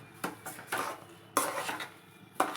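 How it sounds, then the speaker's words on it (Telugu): A spoon stirs sugar into semolina kesari in a pan, making several close scraping and clinking strokes at an uneven pace, with quiet gaps between them. "ఇలా షుగర్ అంతా బాగా కలిసే వరకు కలుపుకోవాలి"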